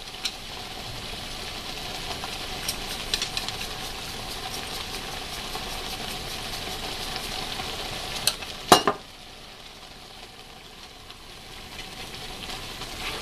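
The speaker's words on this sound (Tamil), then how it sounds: "இப்போ இதை நல்லா நம்ம வதக்கணும்." Taro frying with chili and turmeric powder in a pan hisses in a steady, close sizzle, broken near the end by one sharp knock of a utensil, after which the sizzle drops to a quieter hiss.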